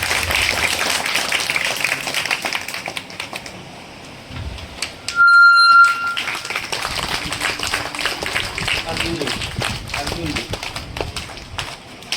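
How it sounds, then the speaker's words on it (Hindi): An audience at a community conference applauds loudly to welcome guests, dense clapping running throughout with a brief electronic beep-like tone midway and voices mixed in. "जोरदार तालियों के साथ स्वागत।"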